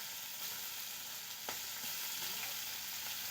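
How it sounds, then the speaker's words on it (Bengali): Prawns fry quietly in a pan, giving a faint, constant hissing sizzle with a few small pops and light knocks, heard up close with no talking. "এবারে মাছগুলো ভালো করে ভেজে নেব।"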